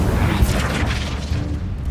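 A magical fire spell erupts in the Hogwarts Legacy game as a dense, steady roaring whoosh with a low rumbling body, loud and sustained without a clear start or stop.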